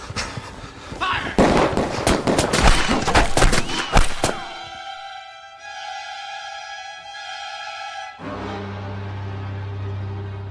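A burst of rifle fire from a firing squad in a radio drama rattles loudly for several seconds, then cuts off abruptly into a sustained ringing tone and a low rumbling close.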